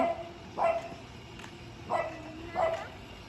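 A small dog barks a few times in short yips and bow-wow bursts, fairly close and moderately loud, with quiet room background in between.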